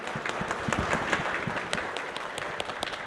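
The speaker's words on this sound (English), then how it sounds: "Round of applause to these guys because they really made it happen here." Festival audience applauding a panel after a moderated session, a dense, steady wash of clapping with scattered sharper claps throughout, moderately loud and fairly close.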